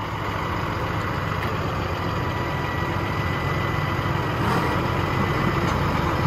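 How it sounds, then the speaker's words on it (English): Steady, loud diesel rumble and hydraulic drone from a 2001 Sterling L7500 grapple truck with its loader working, holding an unbroken, even level throughout at close range with no pauses or talk. "You can see the grapple's functioning as it should."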